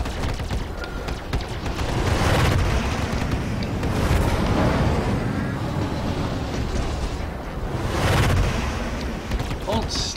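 Heavy repeated cannon bursts from a quad cannon on a spaceship in the game Star Citizen, loud rolling booms that swell and fade in waves, with someone talking over them.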